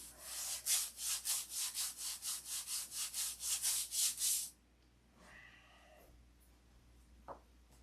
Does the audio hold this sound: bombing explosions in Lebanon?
no